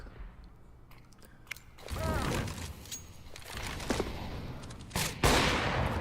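Gunshots in a Counter-Strike match ring out as scattered sharp cracks, a few separate shots and a louder burst near the end, over game background noise.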